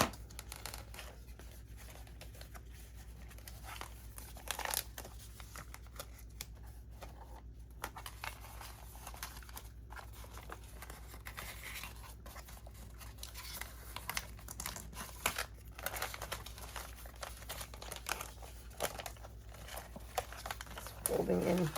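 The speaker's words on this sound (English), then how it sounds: "I'm going to cut off an inch or so on the sides." Scissors snip through chipboard with quiet, irregular cuts and crinkly rustling while a scrapbook storage bin is trimmed by hand, all soft and close.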